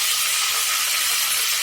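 Mint leaves dropped into hot oil in a pan send up a steady, even sizzle and hiss that fills the short moment close up, with no talk.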